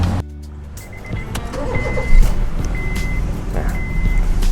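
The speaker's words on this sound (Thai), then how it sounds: "ผมสตาร์ทให้ดูนะคันนี้" A 2012 Honda City starting up: a starter crank then the engine catching into a steady idle, loud and close, with a chime beeping repeatedly over the running engine.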